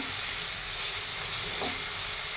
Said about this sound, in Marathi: परतून घेते मसाला